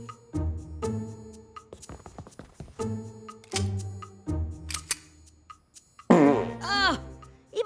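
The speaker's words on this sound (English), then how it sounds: "even his farts smelled like maple syrup" Cartoon flatulence in an animated adult comedy: a string of short, blatting farts with buzzy tails, then a longer warbling squeal near the end, loud and close over sparse background sound.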